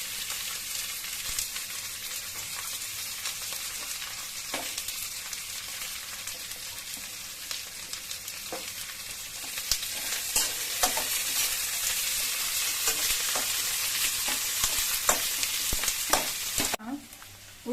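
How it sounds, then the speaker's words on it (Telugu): Sliced onions, about 250 grams, fry in oil for an egg pulusu: a continuous hissing sizzle with scattered soft stirring clacks, growing louder midway before cutting off near the end. "మనము కట్ చేసిన 250 గ్రామ్స్ ఆనియన్స్ ను నూనెలో ఒక 5 మినిట్స్ వరకు వేయించుకోవాలి."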